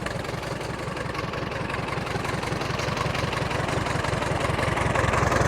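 A 1953 Allis Chalmers WD45 tractor with its Power Crater engine idles steadily close by, a low, even chugging pulse that holds for several seconds and swells slightly louder toward the end, with no voices.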